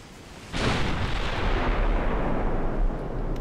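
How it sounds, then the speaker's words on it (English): A 16-inch naval gun on the battleship Arizona fires in Ultimate Admiral: Dreadnoughts, a sudden deep booming blast that erupts after a quiet moment and rolls on as a loud, sustained rumble. "Oh, they've got 16-inch guns."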